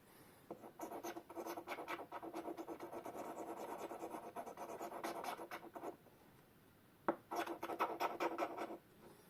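Close, quiet rasping of a small file cutting a bevel on a quartz watch stem held in a pin vise, rapid back-and-forth strokes in a steady rhythm, a brief pause, then another burst of filing.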